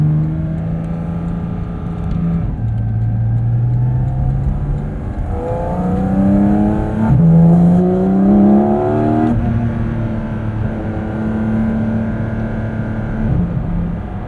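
A 2023 Porsche 718 Cayman GT4 RS engine revs loud and close, its pitch climbing and dropping through repeated throttle blips over a steady idle, with no talking.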